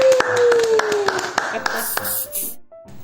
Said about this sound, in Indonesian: Yeay, tepuk tangan dong.